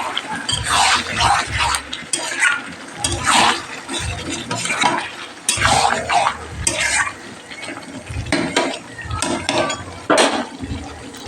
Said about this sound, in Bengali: আলুটা ভেজে নিচ্ছি আমি